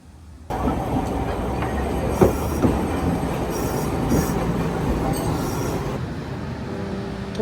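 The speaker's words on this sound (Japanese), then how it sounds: "5分くらい路面電車に乗って森町まで来ました。" A Nagasaki streetcar rumbles along steadily from inside the tram. Wheels and motor give a continuous rolling drone with a few clanks and light rail clatter, and there is no talk.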